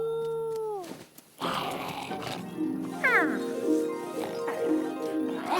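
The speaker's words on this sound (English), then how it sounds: "Wolves travel in packs and use a loud and annoying howl to communicate" A cartoon wolf lets out a drawn-out, wavering howl with rising and falling animal cries, loud and close, in an animated show soundtrack.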